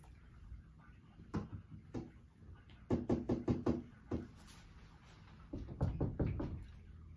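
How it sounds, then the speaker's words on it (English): Knocks and taps on a door and window come in a few scattered single raps and then quick bursts of four or five, crisp and close, with no voices. "Who's that knocking at the door?"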